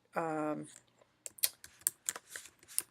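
Typing on a computer keyboard, heard close and fairly quiet: a brief voiced sound comes first, then a run of separate, irregular key clicks.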